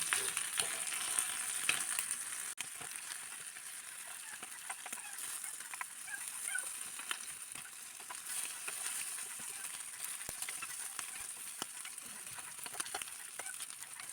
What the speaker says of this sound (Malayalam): ഒരു വശം നല്ലവണ്ണം ഒന്ന് ഫ്രൈ ആകുന്നിടം വരെ ചെറിയ തീയിൽ വേവിച്ചെടുക്കാം.